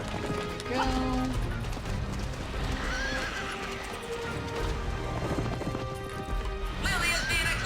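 A horse ridden at speed in the Petz Horse Club video game, brisk hoof clip-clops with a whinny, set against game music and crowd noise while a voice talks over it.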